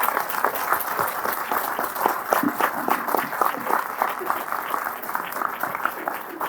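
A conference audience applauds with dense, steady clapping that holds at even loudness throughout, as from a large hall full of people.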